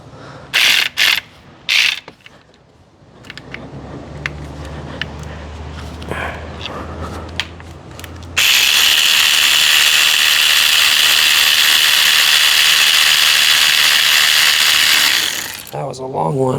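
A ratchet on a long extension works bolts on a 2007 Toyota Corolla during spark plug and gasket replacement, with several quick clicking bursts early, then a sustained loud buzzing mechanical run near the end.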